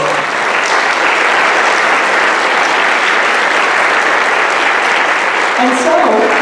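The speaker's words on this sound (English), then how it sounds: "Give them all a big round of applause." Loud, sustained applause from a large audience at a school dance performance, steady dense clapping throughout with no pauses.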